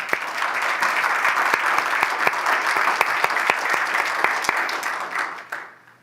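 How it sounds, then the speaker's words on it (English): An audience claps steadily for several seconds, a dense patter of applause with a few sharper individual claps, fading out at the end. "Let's give them a round of applause."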